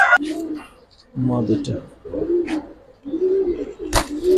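Giribaz pigeons cooing close by in low, repeated rolling coos, with someone speaking between and over the calls.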